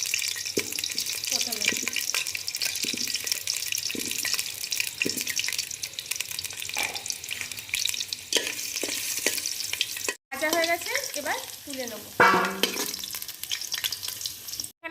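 Six potato pieces fry in a little white oil in a pot for chicken biryani, a steady broadband sizzle with scattered stirring clicks and scrapes, close and fairly loud, with a brief cut and a louder burst of crackling near the end.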